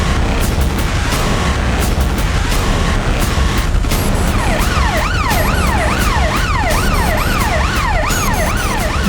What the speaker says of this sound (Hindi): 4 एम्बुलेंस पीछे और आ रही है।